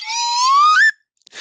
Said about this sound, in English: I've got my the Man of the Golden Gun branded slide whistle